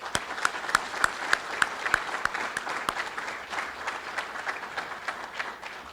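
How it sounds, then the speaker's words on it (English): A banquet crowd applauds the 2023 Hall of Fame class and a 1998 national championship softball team, sustained dense clapping with a few loud individual claps standing out near the front early on. "let's give one more round of applause for our 2023 Hall of Fame class and the 1998 National Championship softball team"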